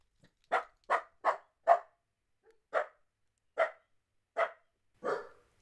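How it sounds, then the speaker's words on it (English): A dog barks eight times in a short, uneven series, sharp and fairly close, with a slight pause midway, in an otherwise quiet indoor room. "You don't even know what you're barking at."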